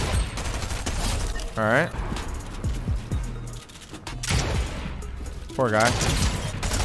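Gunfire in the battle royale game Fortnite rings out in several dense bursts, loud and close, mixed with game effects and someone talking over the shots.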